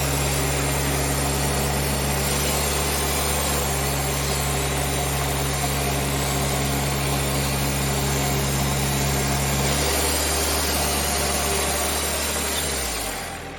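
Sawmill engine running steadily before the first cut on a log: a loud, constant mechanical drone with a high whine that holds for most of the clip, then winds down near the end, with no talking.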